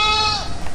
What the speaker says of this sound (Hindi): किसका बकरी चिल्ला रहा है भाई?